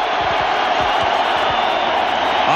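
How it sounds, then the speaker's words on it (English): A packed Nebraska stadium crowd roars steadily through a 1994 college football game against Colorado, a dense, loud, continuous wall of noise with scattered shouts rising out of it. "the crowd is trying to defeat him"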